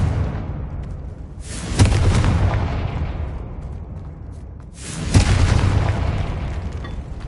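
Two heavy blasts from the Confringo spell in Hogwarts Legacy, each a sudden booming burst that rumbles and fades slowly, a few seconds apart, inside a tomb with no talking.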